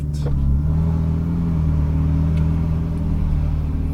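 A Ferrari 488 GTB on a cone-marked course idles low and pulls away, a steady deep engine rumble with a mild rise as it rolls off and turns left.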